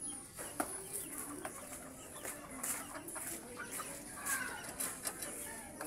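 Red junglefowl (labuyo) chicks peep and cheep steadily while being fed, a busy cluster of high chirps with faint clucking close by, no talking.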